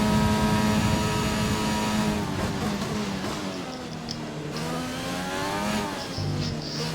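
A Formula 1 race car engine in the F1 2020 racing game, a high-pitched wail that holds steady, then drops and climbs through gear changes, loud and continuous.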